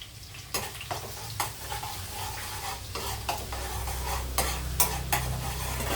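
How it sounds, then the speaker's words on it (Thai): Garlic frying in a pan until golden, a steady close sizzle broken by several scraping stirs of a utensil against the pan. "เจียวกระเทียมให้เหลืองก่อนค่ะพี่น้อง"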